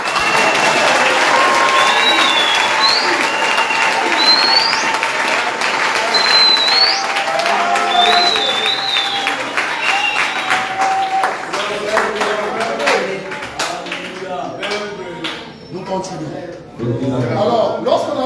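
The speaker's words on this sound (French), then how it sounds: "Est-ce qu'on peut applaudir pour Jésus?" An audience at a French-speaking church gathering applauds and cheers loudly and continuously, with whistles and shouts mixed in, before the clapping thins toward the end.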